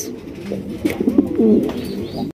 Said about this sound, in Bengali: এখানে রয়েছে আরো একজোড়া রেসার কবুতর